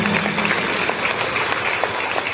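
A crowd at a Jana Sena political rally in Kakinada Rural applauds, dense and loud continuous clapping filling the short span, with no one speaking over it.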